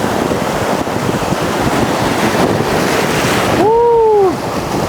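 A set of ocean waves breaks and washes in a steady, loud roar mixed with wind buffeting, and a brief whistling tone rises near the end.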